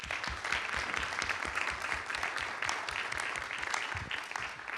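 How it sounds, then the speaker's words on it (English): A large round of applause for the panelists closing a workshop session at an internet governance conference, many hands clapping continuously in a room, heard at a modest distance and fairly quiet. "Please join me in giving them a very large round of applause."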